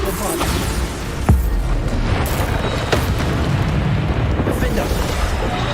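Bombarda spell explosions in Hogwarts Legacy, a loud booming blast with rumbling debris over a constant dense battle roar, a sharp hit near the start and another shortly after.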